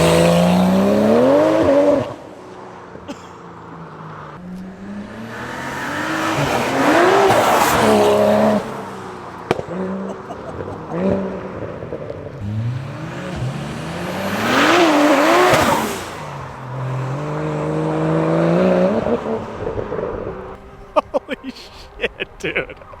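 A tuned BMW N54 engine revs hard in repeated surges, pitch climbing with each pull through the gears, loud and close, separated by brief quieter lulls.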